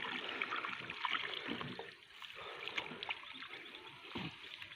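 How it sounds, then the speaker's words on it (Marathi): Irrigation water runs into a farm field by gravity, with no motor pumping it, making a steady, soft rushing and trickling wash that continues throughout. "हे पाणी चालू झालेलं आहे बिगर मोटरचं आपलं"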